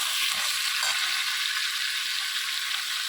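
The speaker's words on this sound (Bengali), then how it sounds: "নুনটা দিয়ে নাড়াচাড়া করবো।" Mixed vegetables with salt sizzle in a hot pan as they are stirred, a constant crackling fry with a few low scraping knocks from the utensil near the start.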